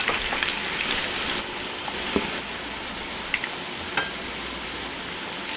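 New potatoes frying in a skillet give a steady, dense sizzle, close and constant, with a few faint clicks of turning on top.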